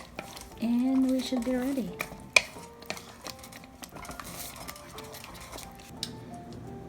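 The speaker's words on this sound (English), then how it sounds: "Just mix it in." Palabok ingredients are stirred in a pan with a utensil scraping and clinking against metal, mixed with soft sizzling. A voice speaks briefly over the cooking sounds.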